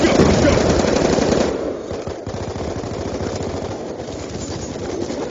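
Rapid machine-gun fire in a video game, a loud dense burst lasting about a second and a half before it drops to quieter background gunfire and game sounds.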